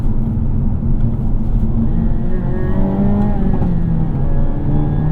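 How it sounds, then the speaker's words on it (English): A 2022 Hyundai Elantra N's engine note, with active sound design, rumbles low and steady, rising in pitch as it revs, with a droning exhaust tone and no talking. "you've got the outside sound of the exhaust"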